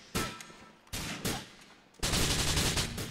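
Gunfire erupts in GTA IV: three loud bursts of shots, the last a dense sustained volley, each sharp and close with no talk over them.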